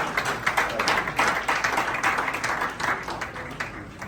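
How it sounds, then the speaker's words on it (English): Audience applause at an evening gathering, greeting the global president of Odadie as an honoured recipient: steady, dense clapping from many hands with a few sharper claps, filling the room at moderate loudness without pause. "Shall we do a big round of applause for him, ladies and gentlemen?"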